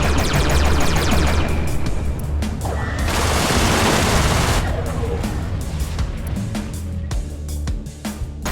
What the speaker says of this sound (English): use the Gatling gun to inflict greater hull damage